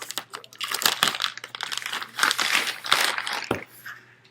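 A white shipping bag is cut and torn open for unboxing, giving close, loud crinkling and rustling of plastic in quick irregular bursts, ending in one sharper rip.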